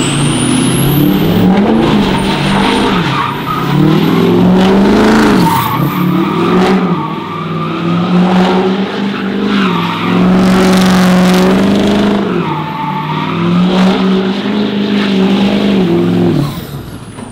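A 2022 Chevy Duramax pickup engine runs loud and close, revving in repeated rising and falling swells that carry through the whole stretch. No one talks over it.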